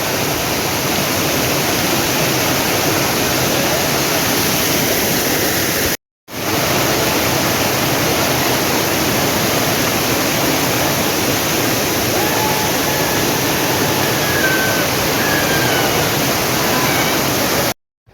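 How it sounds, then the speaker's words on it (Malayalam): A small waterfall pours over rocks in a forest, giving a loud, unbroken rushing roar that drops out only for a moment partway through. "ഈ കാട്ടിനകത്തു നിന്നാണ് ഈ വെള്ളച്ചാട്ടം ഇങ്ങനെ വരുന്നത്"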